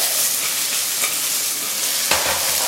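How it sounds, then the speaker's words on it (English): Honey sizzling and caramelizing in a hot pan while chicken is cooked, a steady loud hiss of frying with a sharper crackle or clatter near the end, close up. "Okay, honey's all sugar, so it's going to caramelize."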